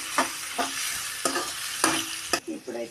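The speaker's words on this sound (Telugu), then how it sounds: "ఇదిగో మిర్చి ఆనియన్ వేస్తున్నా" Chillies and onion go into a hot frying curry pan, giving a steady sizzle broken by several sharp bursts of stirring and scraping at a fairly regular pace.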